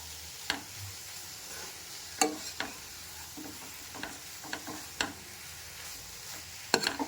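Grated radish stir-frying in a kadai, a soft steady sizzle broken by several sharp scrapes and clacks of a spatula against the pan, with no talk.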